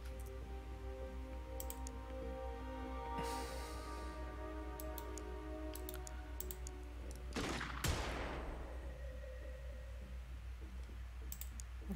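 Gunfire in Xenonauts 2 sounds as scattered sharp cracks and short bursts over a low game hum, with one louder, longer blast near the middle; fairly faint overall.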